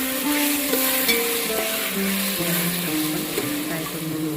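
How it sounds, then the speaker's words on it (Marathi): Ginger-garlic paste fries in oil for masale bhat with a continuous close sizzle and crackle, overlaid by faint wavering tonal hum, no speech. "अद्रक लसूण पेस्ट घालून त्याचाही कच्चापणा जाण्यासाठी आपण त्याला थोडंसं तेलामध्ये फ्राय करून घेऊया"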